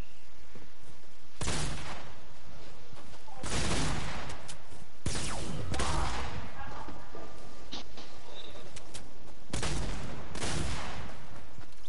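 Video game gunfire crackles in repeated loud bursts of rapid shots spread through the stretch, close and harsh, with a player talking between and over the volleys.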